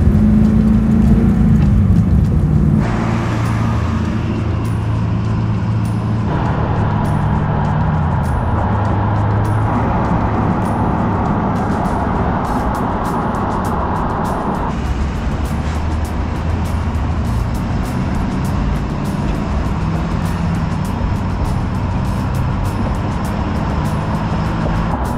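Supercharged LS7 V8 in a second-generation Camaro driving, heard from inside the cabin as a steady loud engine drone with gear-change steps and rising revs throughout.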